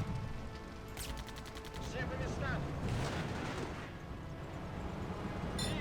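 Rapid submachine-gun bursts and heavier explosions crackle through a video game assault, with a quick rattling burst near the start and dense battle noise throughout, partly under a speaking voice.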